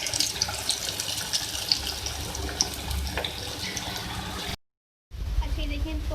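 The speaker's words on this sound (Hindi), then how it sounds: "अब मैं इसको फ्राई करूँगी" Palak pakora, spinach fritters, fry in hot oil with a steady, close sizzle and scattered crackles. The sizzle drops out briefly near the end, then resumes.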